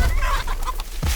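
A rooster in a village readying for Sankranti cockfights gives a brief, close burst of clucking calls lasting about a second, with no talk.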